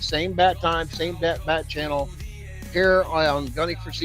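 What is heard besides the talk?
No everyday noises stand out.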